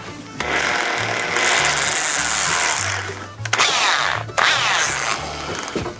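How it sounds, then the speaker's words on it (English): An electric drill bores a hole in an engine block, whirring loudly in sustained bursts with pitch shifts and brief pauses, a low motor hum pulsing beneath the grinding bit. "we need to drill a hole here"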